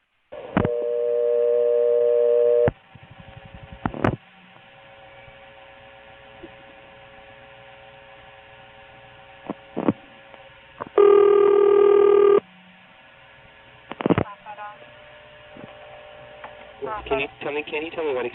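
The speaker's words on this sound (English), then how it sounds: "when I dial 0, I cut into a trunk, and then there's a wait, and then you can actually hear something in Warsaw effectively dialing a 1 into a selector there" Telephone line audio from a 1976 call in the Tidewater region of Virginia: a steady dial tone, clicks of a trunk line switching, a long quiet wait, then further tones and pulses as the call dials into a selector.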